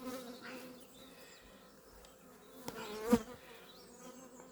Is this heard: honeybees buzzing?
yes